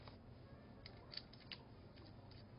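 Small parts of a rechargeable electronic cigarette are screwed together, giving faint, close creaking and clicking twists against a quiet background.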